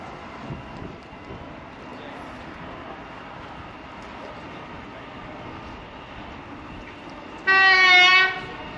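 A city-bound train rumbles steadily at a distance, then sounds a loud horn blast near the end.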